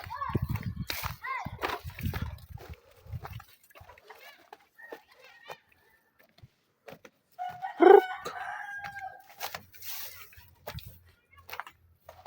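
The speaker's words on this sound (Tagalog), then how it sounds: "Itong manok nga white leghorn." A white leghorn rooster crows and clucks on a farm. A loud, short call stands out among scattered animal noises, and people talk nearby.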